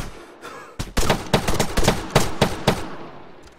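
Rapid bursts of video game gunfire fired from a window in ARMA 3, about a dozen sharp cracking shots in quick succession, loud and close, then trailing off.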